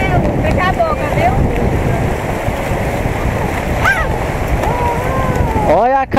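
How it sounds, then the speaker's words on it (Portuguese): Sea waves wash and break along a beach in a continuous loud roar of surf and wind buffeting the microphone, with people talking and a voice faintly over it. "Cuidado, olha a onda, Melissa."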